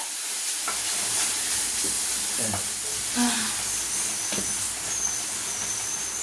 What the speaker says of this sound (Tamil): போட்டு இது நல்லா வதக்கிக்குங்க.